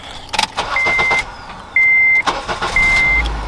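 A car engine starts up, with a few rough cranking bursts followed by a steady running hum, while repeated electronic beeps chime over it at close range.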